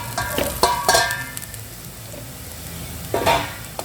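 Chopped onions fry in a pan for a chicken masala curry, giving a steady close sizzle broken by a few sharp stirring scrapes and clinks near the start and again toward the end.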